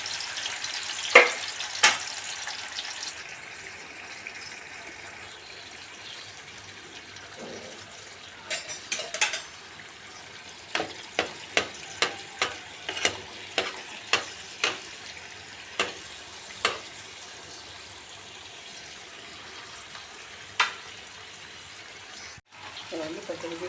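Green masala fish frying on a low flame, a steady soft sizzle with the fish being shifted and turned, followed by a run of about a dozen sharp clicks and taps from utensils against the pan.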